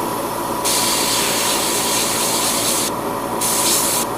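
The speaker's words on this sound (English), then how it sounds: "I don't want to spray too much" Spray paint hisses onto masked parts of a 1/100 MG Gundam Barbatos model kit in two close, steady bursts, the first running about two seconds and a shorter second one following, with no talk.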